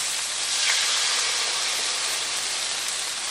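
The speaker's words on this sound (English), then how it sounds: "we're going to add our kung pao sauce. Hopefully that will help deglaze the pan a little bit." Kung pao sauce sizzles and hisses loudly as it hits a hot pan to deglaze it, a steady, close, bright sizzle with no talking.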